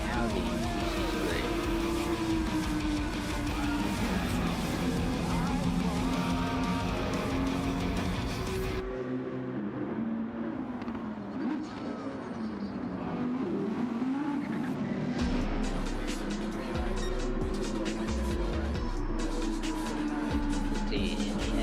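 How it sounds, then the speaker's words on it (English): Audi GT3 race car in a racing video game, its engine droning loudly and steadily with gear changes and a sudden drop in tone partway through, continuous and close throughout. "The Audi GT3."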